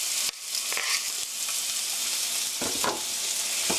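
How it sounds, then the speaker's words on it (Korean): Chopped onion and garlic stir-frying in a pot for a one-pot tomato fusilli, giving a dense, loud, continuous sizzle up close with a few spoon scrapes and knocks. "이렇게 해서 스터프라이 3미닛 3분 정도 볶아주세요."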